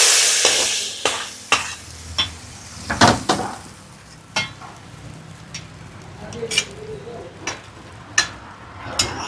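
Dried red chillies sizzle in hot tempering oil for a Kerala mango curry, with a steady frying hiss broken by sharp crackles, spoon stirs and pan clinks close by.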